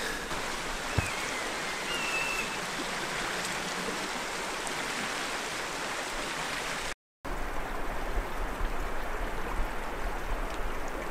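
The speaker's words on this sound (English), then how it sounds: "just looking for a place to cross the river" A river rushes through a mountain valley, a continuous broadband wash of flowing water that stays close and steady throughout, briefly cut off by a short gap, with no voices.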